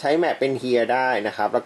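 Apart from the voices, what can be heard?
No distinct noise like a dog, phone or traffic.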